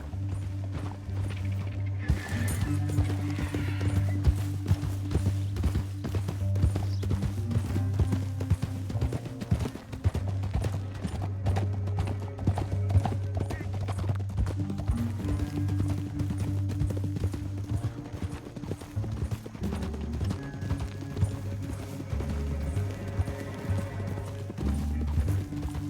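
A steady clip-clop of horse hooves in Red Dead Redemption 2 trots on without pause beneath a droning musical score, with a faint whinny now and then.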